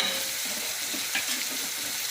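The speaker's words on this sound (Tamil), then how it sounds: "அந்த எண்ணெயில் கொஞ்சம் வதக்கிட்டால்" Close, steady sizzling of hot oil with a crackling hiss as sambar powder and spices sauté in the pan, no voices.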